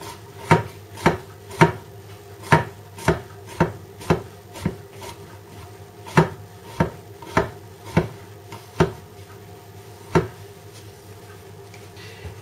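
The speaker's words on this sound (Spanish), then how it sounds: "también lo podemos partir un poco para que resulte mejor en el guiso" A knife chops vegetables on a board for a lentil stew, about sixteen crisp, evenly spaced thuds over a quiet background, with a short pause in the middle and no speech.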